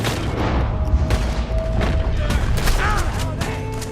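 Gunfire in the video game Red Dead Redemption 2 during a canyon shootout, with loud booming shots and crashing impacts layered over a dense, continuous game soundscape and music.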